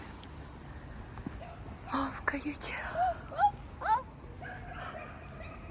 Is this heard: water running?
no